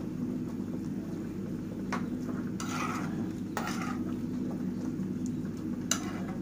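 Onions and broth stirred in a pot for an onion-and-meat casserole, a spoon scraping in a few distinct strokes over a steady low simmer and sizzle.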